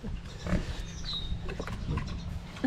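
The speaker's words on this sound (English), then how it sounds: "Yeah, these are happy pigs." Lively farm pigs playing with a chew toy, giving low grunts and snuffles over a steady rumbling background, with a few sharper knocks now and then.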